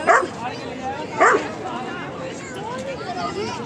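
A female Labrador holding a ball lets out two short, close woofs a second apart, with people chattering in the background.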